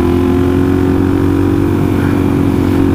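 Loud, steady engine drone of a Suzuki DRZ 400SM motorcycle climbing a steep hill at Little Mountain, Parksville, holding a constant pitch close to the microphone with no talking.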